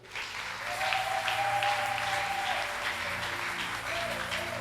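A church congregation applauds during a sermon, a dense, sustained burst of clapping and crowd noise that carries steadily for several seconds.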